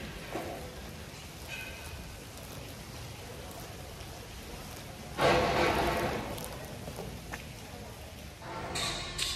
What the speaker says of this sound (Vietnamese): Trời hôm nay hơi mưa, hy vọng rằng ở trên Phan Xipang không có đến nỗi tệ.